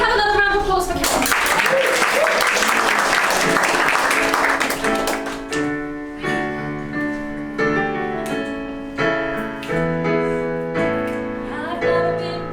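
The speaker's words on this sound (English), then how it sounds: "We have another round of applause for Kath." An audience at an improv comedy stage show claps loudly for several seconds. The applause fades as music and singing take over.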